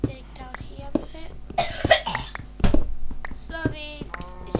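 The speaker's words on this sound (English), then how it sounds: "Sorry, it's just I've got a little cough." A child's short coughs come in quick bursts over a game's background music and ambient sounds, with some faint talking nearby.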